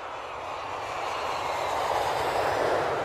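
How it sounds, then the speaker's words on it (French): An airplane lands on an airport tarmac, giving a steady, broad roar of engine and rushing noise that swells slightly over three seconds, with no voices. "Dès que l'avion pose ses roues, on commence à s'activer sur le tarmac."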